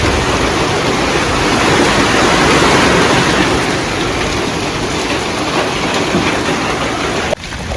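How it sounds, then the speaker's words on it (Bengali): Heavy morning rain pours in a dense, loud, unbroken roar close by, steady for several seconds with a slight dip near the end. "এই যে দেখুন বৃষ্টি অনেক হইলো আর কি"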